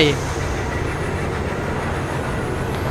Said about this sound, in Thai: นี่ครับรถไฟ